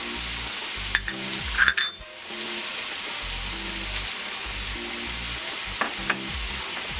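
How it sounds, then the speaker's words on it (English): Vegetables for a Ghana meat pie tipped into a hot pan and stirred, a loud sizzle with a sharp clatter near the start, then steady frying hiss broken by scraping stirs. "now I am going to add my vegetables"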